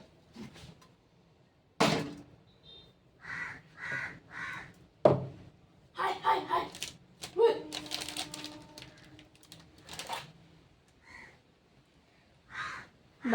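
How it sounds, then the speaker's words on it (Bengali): A crow caws several times in short, harsh bursts, with a few sharp knocks and clatters between the calls. "দেখ কাকটা কেমন কাকা করছে"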